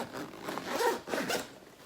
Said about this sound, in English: The zipper is vertical, sorry.